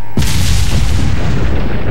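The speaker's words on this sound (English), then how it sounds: "Fire the cannon." A cannon fires in Resident Evil 4, one loud, close boom followed by a long, heavy rumbling roar that fills the remaining moments.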